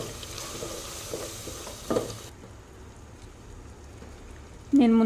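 Masala frying in oil in a pan for egg pulao while coriander leaves are stirred in, with a soft steady sizzle and stirring scrapes; a voice starts speaking near the end.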